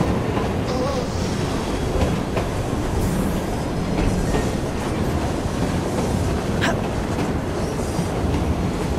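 A steam-era train rumbles along the tracks in the video game Assassin's Creed Syndicate, a loud, steady rolling roar with clacking wheels and faint metallic squeals throughout.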